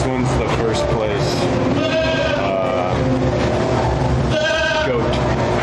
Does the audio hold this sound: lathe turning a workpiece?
no